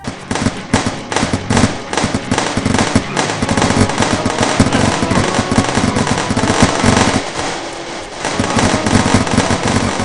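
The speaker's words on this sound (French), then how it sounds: "on accède à une sorte de souvenir de Hitler sous la forme d'une phase de jeu d'action de tir en vue de dessus" Gunfire from a top-down shooter action sequence in the game Sex With Hitler: loud, dense rapid-fire bursts crackle almost without pause for ten seconds, with no voices.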